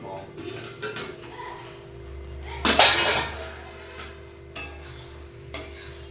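A pot lid is lifted off a pot of cooking saag with fish head, giving one brief, loud close clatter partway through, followed by a few lighter knocks over a low background hum.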